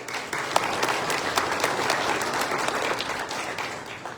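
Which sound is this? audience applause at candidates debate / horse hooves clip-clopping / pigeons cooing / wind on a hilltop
audience applause at candidates debate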